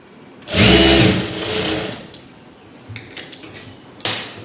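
Sewing machine stitching a lined blouse, a loud whirring run of about a second and a half that eases off, followed by quieter clicks and handling of fabric.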